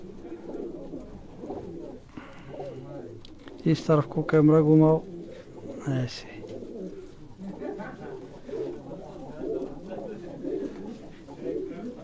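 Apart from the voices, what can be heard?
pigeons cooing in a cage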